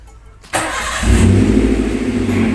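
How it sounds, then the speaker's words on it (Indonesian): A first-generation Toyota Avanza engine cranks briefly on the starter and catches, settling into a loud, steady idle close by. "Saya akan coba starter ya."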